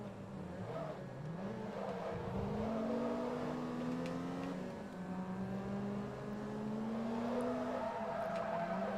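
Race car engine in Forza Motorsport 2, a steady droning whine that rises and falls through gear changes as the car accelerates and eases off, continuous and fairly close.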